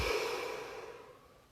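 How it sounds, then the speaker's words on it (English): One deep breath, close and fairly quiet: a single breathy exhale that starts strong and fades out over about a second and a half, with no talk. "Deep breath."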